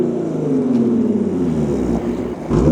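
Audi B8.5 S5 fitted with an AWE Touring exhaust revving up through the rev range to about 4,000 rpm, a loud, close, steady exhaust drone that rises and falls, then climbs sharply again at the end, with no talking.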